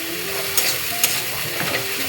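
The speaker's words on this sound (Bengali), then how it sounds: "পেঁয়াজটা লাল লাল করে ভেজে নেব।" Onions frying for a mutton curry hiss and sizzle steadily in a hot pan, with a few stirring scrapes and clicks over the constant crackle.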